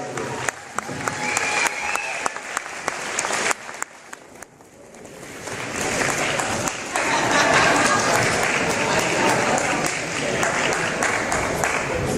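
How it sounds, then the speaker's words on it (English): Crowd in a gym applauding at a high school basketball senior night, scattered claps that swell into loud sustained applause and cheering, with voices mixed in. "Big round of applause for Trevor."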